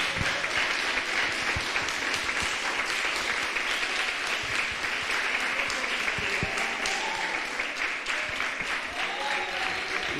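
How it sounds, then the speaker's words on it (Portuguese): A church congregation claps loudly in sustained, dense applause that fills the room for about ten seconds, with a few voices calling out underneath. "Adore ao Senhor com seu aplauso mais forte que você puder"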